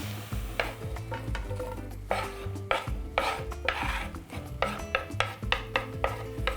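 Onion frying in a pan while being stirred, with steady sizzling and a run of scraping, rasping strokes of a utensil across the pan bottom, close and moderately loud with no talking.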